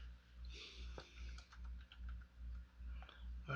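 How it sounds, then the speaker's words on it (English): Quiet, close typing on a computer keyboard, with scattered soft key clicks in short bursts over a low steady hum. "I started typing on the wrong thing."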